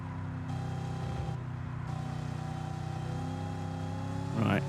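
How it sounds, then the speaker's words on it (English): Steady car engine drone from the racing game Gran Turismo 7, holding a constant pitch throughout with a brief louder burst near the end, heard alone without talk. "Engine noises, yep."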